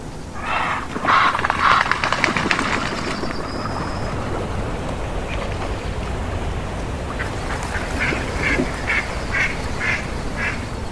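Diving ducks calling near water, with loud bursts of quacking near the start and repeated quick calls later over a steady watery background hiss, no voices.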